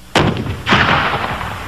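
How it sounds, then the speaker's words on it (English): Two loud cannon blasts from a royal gun salute, each a sharp boom followed by a rolling echo, the second coming about half a second after the first and ringing on to the end. "the deafening sound of cannons echoed across Britain"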